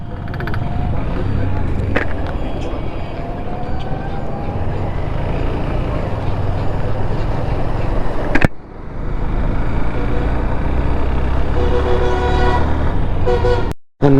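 Loud, continuous road traffic on the Natore to Dhaka road in Bangladesh: a steady roar of passing cars and trucks with occasional horn toots, recorded close to the roadside, with a voice speaking over it.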